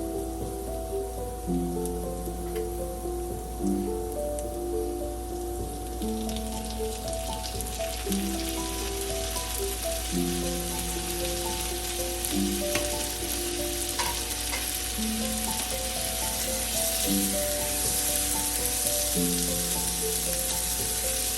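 Green chilies and tomatoes fry in a pan of lentil masala, a steady loud sizzle with occasional stirring scrapes, accompanied throughout by a sustained background melody.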